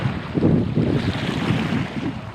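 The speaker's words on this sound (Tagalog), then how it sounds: "Lakas kasi yung alon" Waves surge and wash heavily with a rough, windy roar, loud and continuous, with no voices.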